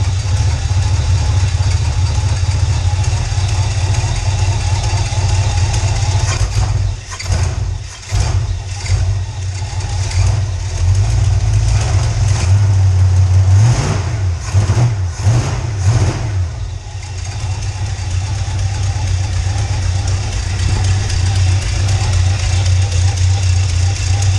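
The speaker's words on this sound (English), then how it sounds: "Hear exhaust leakage." A car engine with an exhaust leak, running loud and close with a steady idle, a few revs in the middle with a ticking, puffing edge, and brief talk over it.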